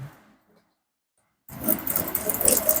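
A sewing machine stitching a garment from the back, starting after a silent pause and running in a steady close whirring drone to the end.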